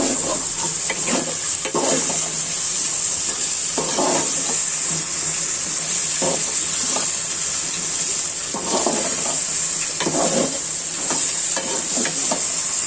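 Bottle gourd curry with salt is stirred in a pan: a constant loud hiss of cooking runs under repeated bursts of scraping and rustling from the spoon.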